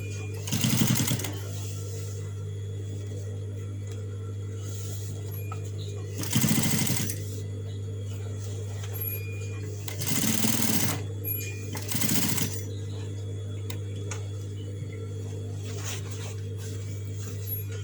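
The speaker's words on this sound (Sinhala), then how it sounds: "මේ ප්‍රමාණයට බෙල්ට් එක තියලා මෙහෙට අඟල් 6ක් වෙනකම් මහලා මේ පැත්ත හරවලා නැවත මෙහාට මහනවා" A sewing machine stitches a belt strap onto a homemade lunch bag. It runs in several short bursts of rapid needle chatter, with a steady electric motor hum continuing between them.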